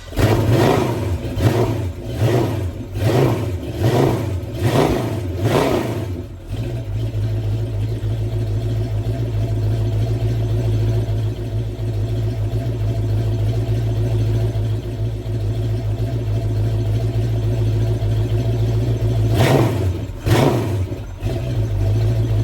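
A 461 Pontiac stroker V8 with a carbureted setup cranks in rhythmic, loud pulses for several seconds, then catches and settles into a steady, rumbling idle, with a brief blip of throttle near the end.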